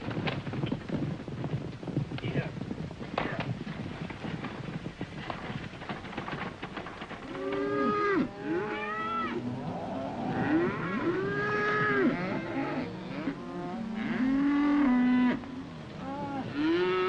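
Cattle lowing repeatedly in a desert setting, several drawn-out moos rising and falling over the second half, fairly close and loud above a steady background of hoof clip-clop and wind.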